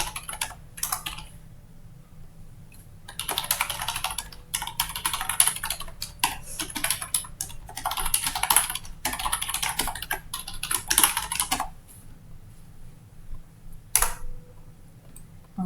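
Bursts of quick typing on a computer keyboard while entering data into Acomba accounting software, close and crisp clicking in uneven runs separated by short pauses, with no voices.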